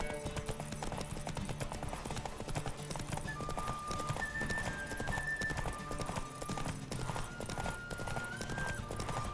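A horse in The Witcher 3: Wild Hunt pounds its hooves in a fast, steady galloping rhythm with occasional neighs, close by, over a busy layer of music.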